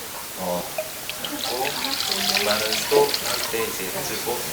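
Clean water runs and splashes as bowls are rinsed before a simple temple meal at Ssanggyesa in Korea, a continuous close trickle with voices talking over it.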